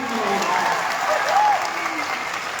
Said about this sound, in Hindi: डॉक्टर अशोक चौधरी के लिए तालियों की गणना हाथ के साथ।